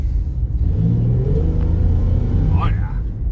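A 1999 Jeep Cherokee XJ engine revs nearby with a deep rumble that rises and falls over a few seconds, while a person talks briefly over it.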